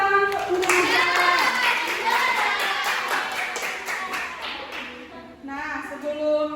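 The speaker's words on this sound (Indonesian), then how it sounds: "Beri tepuk tangan untuk Najwa." A class of young children claps for a student during a primary school lesson, a short burst of mixed hand claps over children's voices and chatter, fading out near the end.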